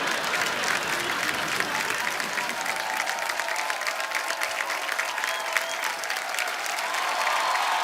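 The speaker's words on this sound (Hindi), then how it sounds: "उनके लिए जोरदार तालियां।" Studio audience applause on a TV comedy show, a steady wash of many hands clapping throughout, fairly even in loudness, with faint voices or music beneath.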